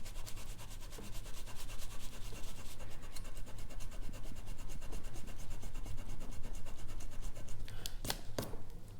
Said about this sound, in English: I do have in my bag of tricks a sanding eraser. So let's see if I can get some of this off of here.